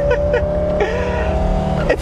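A Mercedes W123 engine pulls hard at full throttle in first and second gear, a steady loud drone throughout with a voice talking over it.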